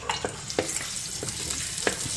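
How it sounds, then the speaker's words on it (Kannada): Chopped onion sizzles in hot oil as tempering for fish curry in a clay pot, a steady close frying hiss broken by a few soft stirring clicks, with no voices. "ಒಗ್ಗರಣೆ ಹಾಕಬೇಕಾಗುತ್ತೆ ಅದಕ್ಕೆ ನೀರುಳ್ಳಿದ್ದು ಮಣ್ಣಿನ ಪಾತ್ರೆಯಲ್ಲಿ ಮೀನು ಸಾರು ಮಾಡಿದರೆ ಸೂಪರ್"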